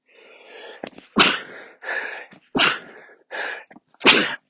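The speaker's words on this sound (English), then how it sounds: "Sorry for the free sneezes." Several sneezes in a row, loud and close, each a sharp burst with short breathy pauses between them.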